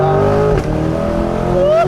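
A Chevrolet Corvette accelerates hard in first gear, its loud, close engine note climbing steadily in pitch before dipping briefly at a shift-like break and rising again.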